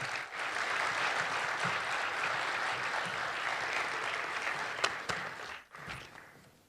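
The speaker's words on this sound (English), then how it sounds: "Please join us in a round of applause for all the deserving nominees." Applause from an awards audience for the nominees, quiet and distant, a steady wash of clapping that trails off near the end.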